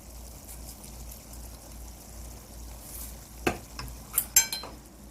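Cooked sweet potato stems are stirred with perilla oil in a pan, giving a soft sizzle and gentle scraping, then a few sharp clinks and scrapes of the utensil near the end, with no voices.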